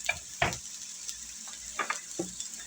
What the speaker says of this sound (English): I'm just going to saute those over medium heat